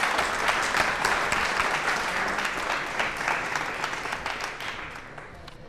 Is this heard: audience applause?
yes